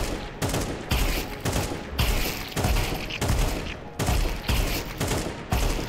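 Counter-Strike gunfire comes in short, sharp automatic bursts, about seven rapid volleys fired in a regular stop-and-shoot rhythm, loud and close.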